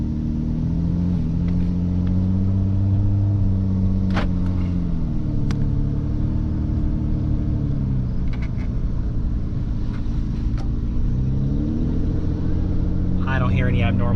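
A 2008 Dodge Avenger car driving in gear just after shifting into drive, with a steady, loud low engine and road rumble throughout and a few faint clicks and knocks over it.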